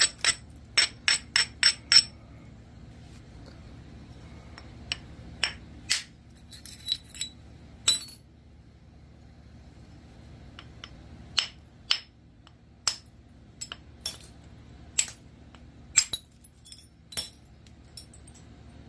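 Sharp clicking taps ring out as a blade is knapped from high-grade Texas flint, a quick run of strikes at first, then irregular spaced hits, close and crisp against a quiet background.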